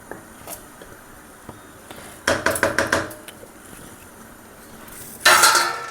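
Rice being mixed into chicken pulao in a pot gives a quick run of metallic spoon clinks against the pot, then a louder scraping stir near the end, amid quieter gaps and no voices.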